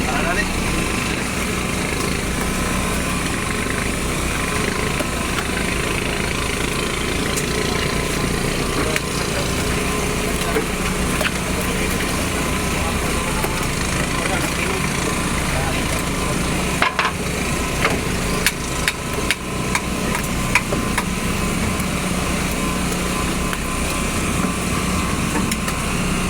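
A motor engine runs loudly and continuously nearby during tuna fishing and selling, a steady droning rumble with faint voices underneath.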